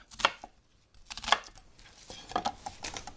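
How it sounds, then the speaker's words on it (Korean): A kitchen knife cuts an onion into large chunks for a winter soup, making a few separate, crisp chops and board knocks with brief pauses between them, close by and without talk. "크게 썰어주겠습니다"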